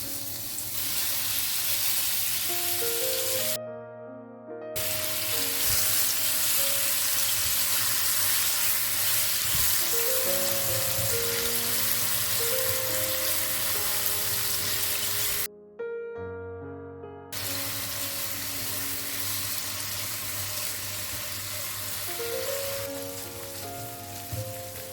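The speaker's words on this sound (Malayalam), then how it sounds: "ഓയിൽ ചൂടായി വരുന്ന സമയത്ത് നമ്മൾ നേരത്തെ മാരിനേറ്റ് ചെയ്ത് വെച്ച് നമ്മൾ ചിക്കൻ ഇതിലേക്ക് ഇട്ട് കൊടുക്കാം." Marinated chicken pieces frying in hot oil give a loud, steady sizzle with crackling spatter and occasional stirring, cut by two brief silent gaps, with no talking.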